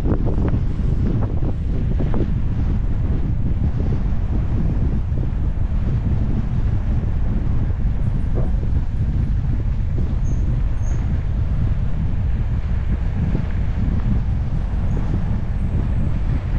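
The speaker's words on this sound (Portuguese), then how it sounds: "E tá ventando bastante" Strong wind roars and buffets the microphone without letup while cycling in the countryside of Borborema, Paraíba, Brazil, a loud rumbling gust noise filling the whole stretch, with faint water sounds beneath.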